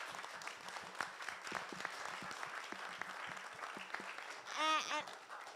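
A crowd applauds a film's executive producer at a screening event, with steady clapping at a moderate distance and a voice talking over it, followed by a brief sung or drawn-out vocal tone near the end.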